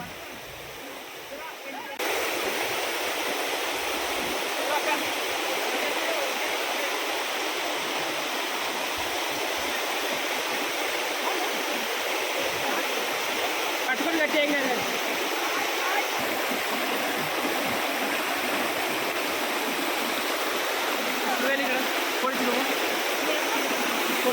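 Anantagiri waterfalls in Araku valley roar steadily and densely from close by, a continuous rushing wash of falling water that starts suddenly and stays loud, with voices faintly present beneath it.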